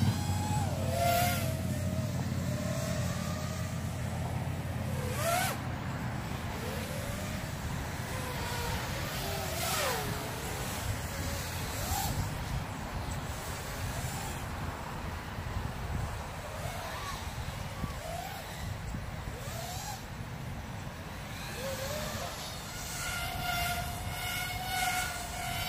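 Tyro99 FPV drone fitted with Gemfan Flash 5152 tri-blade propellers, its motors whining and rising and falling in pitch as it swoops and accelerates, a continuous buzzing drone over a low rumble of wind and movement.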